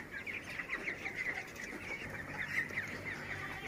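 Chicks with a cold call in a poultry shed, a dense chorus of repeated chirping peeps over a rough, noisy background, steady and moderately close.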